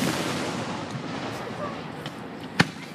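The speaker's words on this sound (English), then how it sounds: "An employee in delivery entrance of Hershey Park watching the fireworks go off." Fireworks at Hershey Park in Pennsylvania, heard as a steady distant crackle and rumble with one sharper bang near the end, under a wash of outdoor noise.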